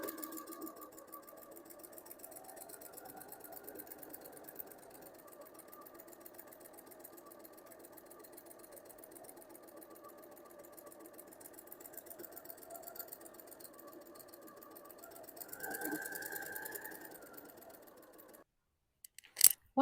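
A sewing machine quilts a fabric pouch along guide lines, running in a steady, continuous mechanical whir for most of the stretch, briefly louder near the end before stopping abruptly, with no voices.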